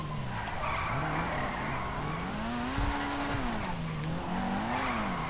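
A Pfister 811 supercar in GTA Online drives hard, its engine note rising and falling while the tires squeal and skid continuously, loud and close throughout.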